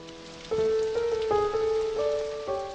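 Steady rain falls with a continuous soft hiss beneath a prominent, sustained orchestral music bed that swells throughout.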